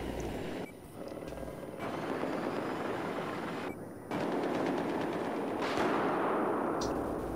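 Battlefield 4 combat sounds: a helicopter drones steadily beneath bursts of gunfire, with a few sharp gaps in the din and no clear voices.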